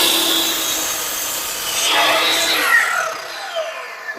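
A piece of wood takes a small trim, with a continuous rasping, sawing-like scrape that is loud and close, swells mid-way, then tapers off into a few short strokes.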